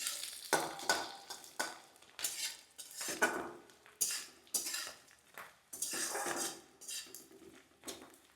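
Coconut and spice paste frying in a pan for a Bengali coconut chana dal, a utensil scraping and stirring in repeated strokes over a soft sizzle, close and fairly quiet.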